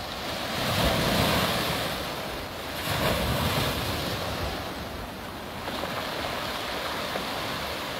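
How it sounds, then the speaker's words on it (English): Surf at Bath Beach on Congor Bay washes in and drags back over stones, a continuous rushing roar that swells and eases in slow surges, with wind buffeting the microphone and no voices. "Listen to the sounds of these rocks pulling in the water."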